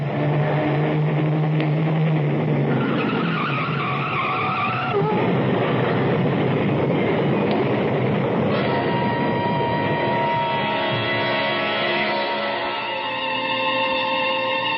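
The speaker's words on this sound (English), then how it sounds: "Hey, look out, Sam. A truck." Radio drama sound effect of a truck bearing down on a car on a road, a loud continuous rumble with skidding, screeching tyres and engine roar building and shifting, with no talk over it.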